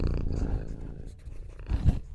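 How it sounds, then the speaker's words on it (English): A cat purrs close up in a low, continuous rumbling drone that fades slightly midway, with a soft thump near the end and no talking. "It is the cat."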